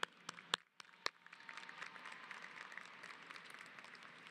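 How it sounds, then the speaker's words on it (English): A crowd at the Bowie High School class of 2024 graduation, an Arlington ISD ceremony, applauds faintly from a distance, starting with a few scattered claps and then settling into steady sustained clapping. "Please join me in thanking all of the teachers and staff members in Arlington ISD that have made an impact on your life with another round of applause"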